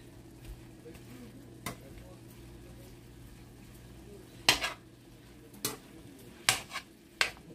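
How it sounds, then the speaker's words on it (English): Utensil stirring pork stir fry in a pan, with a few sharp scrapes and clinks over a soft sizzle, close and moderately loud, while a voice talks in the background. "we just gonna give this a stir"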